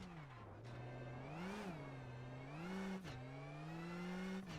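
A Toyota-era WRC rally car of the 2023 Acropolis Rally Greece stage revs hard, its engine note rising and falling through gear changes and a brief lift, loud and close, then pulling away.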